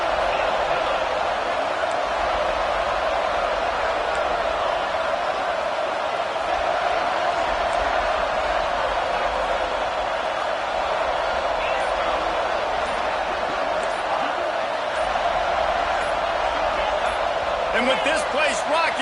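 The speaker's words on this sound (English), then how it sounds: "with this place rocking, the crowd forces a false start" Stadium crowd roaring in College Football 26, a steady loud wall of cheering that swells now and then and keeps going beneath a commentator's play-by-play voice.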